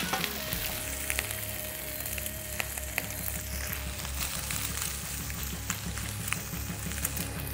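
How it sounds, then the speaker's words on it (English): Steady, dense sizzle of bacon frying in a pan, crackling and popping continuously with no voices. "the bacon is frying"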